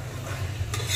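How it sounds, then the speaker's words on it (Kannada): Carrots and potatoes sizzling in a pan for vegetable palav, a steady soft frying hiss with a brief scrape of stirring near the end, close and fairly quiet. "ಸ್ವಲ್ಪ ಬಿಡಿ, ಅದು ಫ್ರೈ ಆಗಲಿ."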